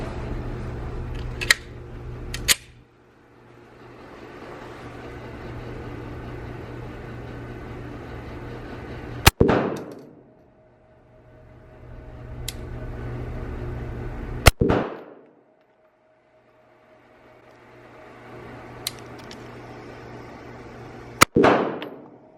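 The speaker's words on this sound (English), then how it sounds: "So I'm gonna shoot 5 shots in different spots on the target so we can see the difference in my grooves." A Glock 42 pistol fires five sharp, loud shots at a target, spaced slowly and unevenly with long pauses between them, over a steady low background hum.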